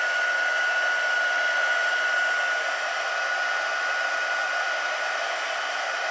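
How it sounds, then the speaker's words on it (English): A heat gun blows across a gel press print with a steady, loud, unbroken whoosh and a thin constant whine, running alone throughout. "using my heat gun"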